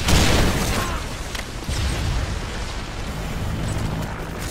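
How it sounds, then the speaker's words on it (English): Predator missile explosion in Modern Warfare 3 multiplayer, a loud broadband boom with a sharp onset that settles into a sustained rumbling roar and debris noise lasting several seconds. "Friendly Predator missile inbound."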